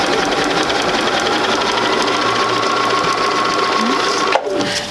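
A sewing machine runs a short, tiny stitch along a seam in fabric, a close, rapid mechanical whirring that lasts several seconds before stopping abruptly.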